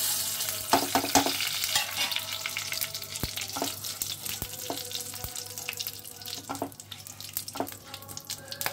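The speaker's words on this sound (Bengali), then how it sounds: "ফোড়নটা দিয়ে দিই ছোটো এলাচগুলো একটু ফাটিয়ে দিই সাজিরা ছোট এলাচ লং আর তেজপাতা" Whole cumin, green cardamom, cloves and bay leaf tempering in hot oil for nababi paneer, with close crackling and sizzling broken by sharp pops and utensil clinks, and no voices.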